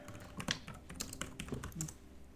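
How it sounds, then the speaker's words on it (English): Fast keystrokes on a computer keyboard, a quick irregular run of close, sharp clicks with short pauses, quiet and with no talk over them. "I hear typing"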